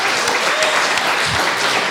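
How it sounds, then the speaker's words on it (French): Audience applause at a live podcast event, dense steady clapping filling the whole short stretch, close and loud with no talk over it. "vous pouvez les applaudir."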